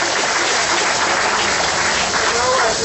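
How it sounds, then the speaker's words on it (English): An audience at a Rastafari gathering applauds in a loud, dense, continuous rush of clapping that fills the whole moment. "Let us clap His Imperial Highness, Prince Ermias"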